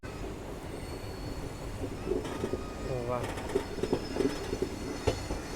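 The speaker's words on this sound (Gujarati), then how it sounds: "સામેથી ટ્રેન આવે છે એ જાય છે વાંકાનેર રેલવે સ્ટેશને જાય છે" An oncoming train passes on the line toward Wankaner railway station. Its rumble and clatter carry a brief squeal of wheels, and a short exclamation is voiced over it.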